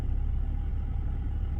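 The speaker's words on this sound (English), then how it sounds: "my engine runs smooth" A car engine idles smoothly after transmission fluid has been poured into it, making a low, even rumble with no fluctuation and no voices over this short stretch.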